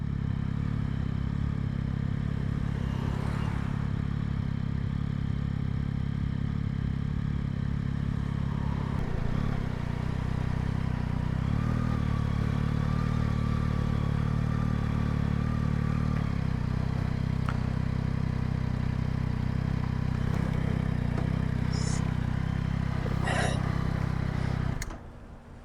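A 2025 Yamaha Tracer 9 GT motorcycle hums along at a steady cruise, its engine drone and wind noise constant and close before easing off at the very end.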